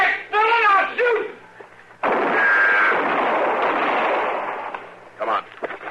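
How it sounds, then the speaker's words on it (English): A loud, booming gunshot effect in a Gunsmoke western radio drama, a single heavy blast followed by a long rumbling decay, with actors' voices just before and after it. "Dillon, I'll shoot."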